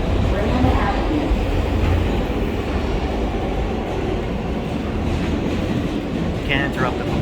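An R143 L subway train bound for Rockaway Parkway runs through New York City, a loud, continuous underground rumble and rattle of the railcars with muffled voices mixed in.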